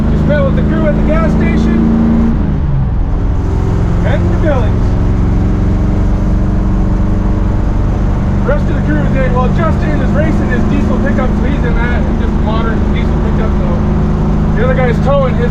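A 1955 Chevy drives along the road during a drag-and-drive race week across Montana, with a loud, steady engine drone and road rumble throughout and a brief shift partway in, while someone talks over it.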